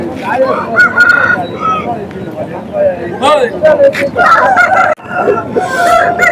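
A rooster at the Chintamani hen market gives fowl calls amid close, busy market chatter and a voice talking over the birds.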